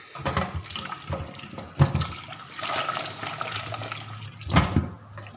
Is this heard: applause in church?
no